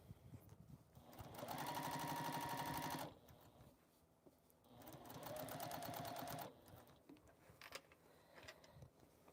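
A sewing machine stitches a quilted fabric sewing caddy in two quiet, whirring bursts of rapid needle strokes with a short pause between, followed by faint handling noises.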